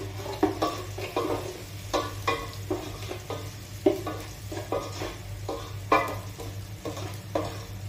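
Onions frying in a pan while being stirred, with salt added, for a Goan muga gathi recipe: a steady soft sizzle beneath a series of irregular scraping stirs close to the microphone.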